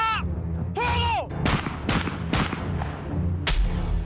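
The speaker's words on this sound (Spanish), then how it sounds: "No fue una descarga, fueron disparos, 1 a 1 o 2 a 2" Gunshots fired one or two at a time during a 1975 firing-squad execution, about four sharp, separate bangs spaced unevenly, mixed with other wavering tones.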